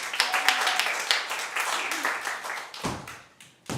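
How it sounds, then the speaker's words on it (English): Audience at a Theatresports improv show clapping as a performer named Tom comes onstage; close, uneven clapping with scattered sharp hand claps, fading briefly before a final burst. "let's give him a round of applause"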